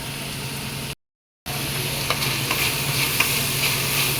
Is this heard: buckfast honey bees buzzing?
no